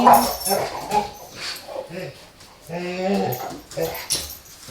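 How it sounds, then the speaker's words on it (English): Two pet dogs play together indoors, giving off a run of whimpers, yips and odd vocal grunts at close range, with a person talking over the noises at times. "My dogs are playing with one another right now."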